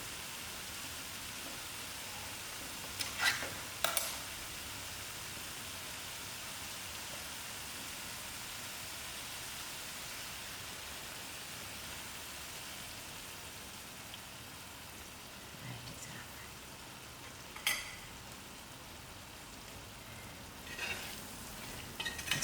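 Butter chicken sauce with 200 ml of coconut cream simmering and frying in a pan, a steady soft sizzle and bubble throughout, with a few brief scraping stirs standing out.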